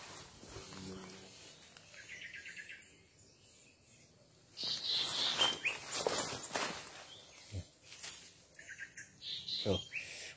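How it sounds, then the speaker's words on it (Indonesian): A cipau bird sings outdoors near a historic stone site, bursts of chirping calls rising over quiet background with brief bumps and rustles. "Ini bunyi burung"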